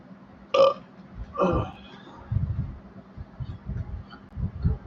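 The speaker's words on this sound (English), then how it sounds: "Bringing that belch." Two loud, close belches in quick succession, the first sharp and croaky and the second longer and rougher, followed by quieter low grunting vocal sounds.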